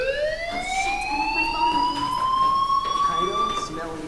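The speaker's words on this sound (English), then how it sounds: "do you hear that fire alarm? That means you should be outside." A fire alarm wails in the Life is Strange Remastered video game, a loud electronic tone sweeping slowly upward and sounding continuously over a faint background murmur.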